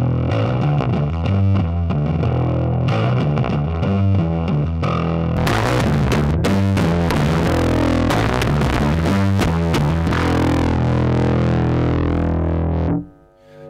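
A single-coil bass guitar plays through a Laney Digbeth DB200-210 bass amp, giving a loud, heavily distorted riff of punchy notes over a low hum, ending with a sudden cut to near silence.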